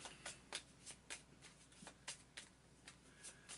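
Cards are drawn from a deck during a board game, Shadows of Brimstone, as a faint series of quick papery slides and flicks in an uneven rhythm, close and quiet with no talk.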